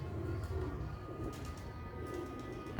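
Sialkoti black-faced pigeons coo in low, throaty, repeated rolls close by, a continuous soft murmur with no talk over it.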